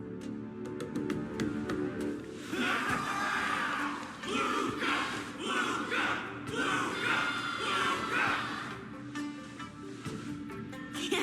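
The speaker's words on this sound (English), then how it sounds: "Can't you hear? Everyone's cheering for you, Luca." Crowd cheering in the video game Honkai Star Rail, a busy wash of many voices with shouts and roars rising and falling at moderate loudness over a low background rumble.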